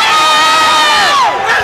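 Dense arena crowd at a hockey game cheering and shouting, loud and sustained throughout with rising and falling whoops and no clear speech.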